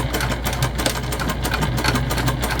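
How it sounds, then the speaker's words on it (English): A sewing machine runs steadily and close while basting a clutch bag together, its rapid needle rhythm loud and continuous throughout. "And we'll baste everything together here."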